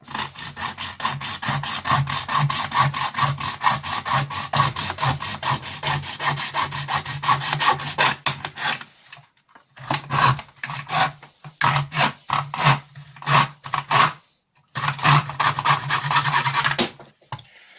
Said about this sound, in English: Let's get this sawn off.